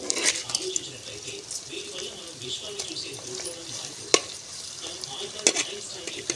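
Fish pieces fry in oil with onions, giving a soft, steady sizzle with occasional scrapes and sharp utensil taps, close but fairly quiet, with some faint background voice.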